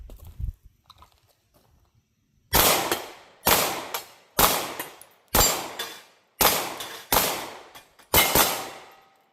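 Seven loud, sharp gunshots from a German 9mm Luger P08 pistol firing 9x19 rounds, each followed by a ringing steel gong hit, spaced about a second apart after a quiet start.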